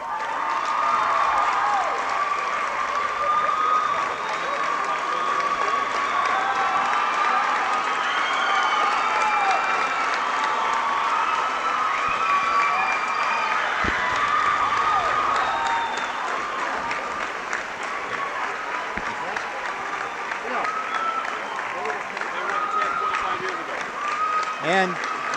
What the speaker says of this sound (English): I'd like you to stand and applaud this year's